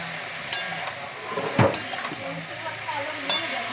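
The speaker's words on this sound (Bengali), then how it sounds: "আলু ফুলকপিটা একটু ভাজবো" Potato and cauliflower frying in a pan, a continuous low sizzle with occasional clinks and scrapes of a utensil stirring, close by, with no talking.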